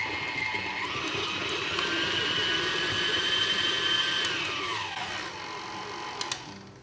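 An electric hand mixer creams three sticks of unsalted butter for banana nut bread with a steady, close, whirring motor whine that shifts pitch as it speeds and slows, then winds down.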